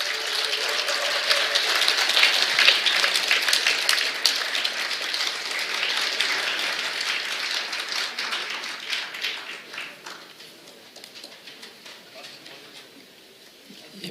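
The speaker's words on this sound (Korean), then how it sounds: "큰 박수로 환영해 주십시오." A large party convention crowd applauds presidential candidate Yoon Suk-yeol with sustained, dense clapping that swells early, then thins and fades over about fourteen seconds, heard from within the hall.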